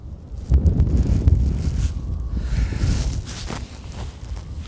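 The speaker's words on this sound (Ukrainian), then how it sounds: "бо бачите, вітер піднімається" Gusty wind buffets outdoors on the Dnipro riverbank during feeder fishing, rumbling low and rushing in waves, with brief knocks and rustles mixed in.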